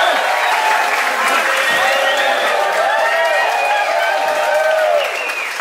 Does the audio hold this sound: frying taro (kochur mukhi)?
no